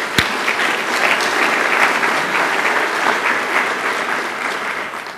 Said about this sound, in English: Give our staff a round of applause.